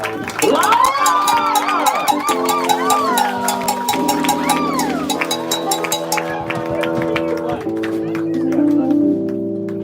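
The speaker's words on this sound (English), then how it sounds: "Can we get a big hand clap for all the musicians who've been doing their thing this evening?" A lively crowd at an improvised music jam session in Brooklyn, New York, cheers loudly with whoops and shouts, the sustained yells rising and falling for about ten seconds close to the recording point.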